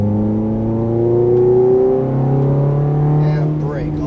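A Ferrari F430 engine revs steadily under throttle on a driving course, its tone rising and then holding at a high pitch, loud and close throughout. A voice speaks over the engine.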